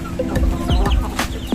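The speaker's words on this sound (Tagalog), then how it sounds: "Okay, so dito tayo ngayon sa aking mga manukan." Chickens in a backyard coop cluck close by in a quick run of short, loud clucks. No one speaks.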